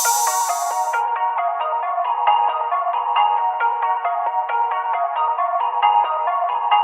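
A continuous ringtone-like notification bell jingle plays steadily and loud throughout, with a brief bright shimmer at the very start and no talking.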